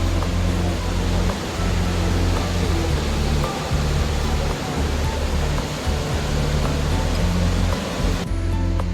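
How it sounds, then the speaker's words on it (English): Steady, loud roar of Victoria Falls in Africa at low seasonal flow, a continuous broadband rush of falling water filling the whole stretch with little change in level. "The flow of water at Victoria Falls is at its lowest point this time of year."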